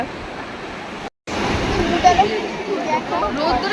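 Sea waves rolling and breaking on the beach at Digha, a broad steady roar of surf with a brief dropout near the start and a surge building midway, voices speaking over the water.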